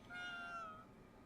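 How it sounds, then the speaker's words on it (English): A cat in Ghostwire Tokyo gives one short, clear meow that is quiet and lasts under a second. "Look at the cat!"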